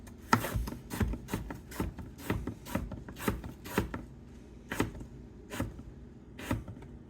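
A knife cuts through a hard apple in a quick series of about a dozen crisp, fairly soft chops and scrapes at an uneven pace, close by with no talking.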